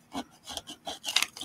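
A hand scraper rasps across a surface in a few short, uneven strokes, close and moderately loud, each scrape separated by brief gaps, with no talking.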